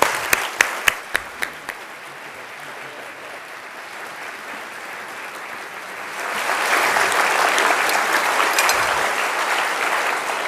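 Audience applause welcoming lecturer Professor Didier Queloz at a University of Cambridge evening lecture on exoplanets, starting with a few sharp claps, then settling into steady clapping that swells louder and fuller after several seconds, with no talk.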